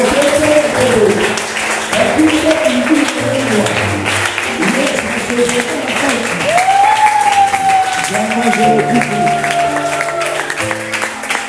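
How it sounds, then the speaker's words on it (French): A church congregation at a Sunday service applauds and cheers in praise, a steady wash of clapping that continues throughout under sung and spoken worship. "lève-toi, salue Jésus par des acclamations"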